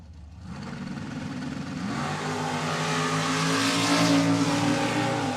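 Nitro funny car drag racing engines roar loudly at a Sweet Corn Outlaws final round, a dense, rising bellow that swells in volume across the run with no talk over it.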